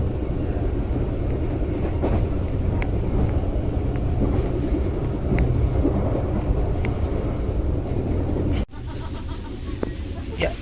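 Steady rumble and rattle inside an executive-class carriage of the Brantas passenger train, running continuously at close range, with a brief drop in level near the end and talk over it.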